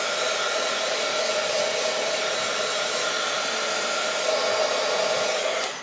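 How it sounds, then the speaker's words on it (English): A heat gun blowing hot air to dry pigment ink on a handmade card, a loud, steady whooshing hum that runs continuously and cuts off abruptly at the end. "I'm going to hit this with my heat gun quick, because that is pigment ink"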